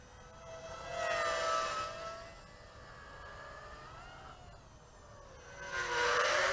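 A small VIFLY X150 drone on a 4S battery hovers nearby with a whining propeller tone that rises and falls as the throttle shifts, growing louder in two surges.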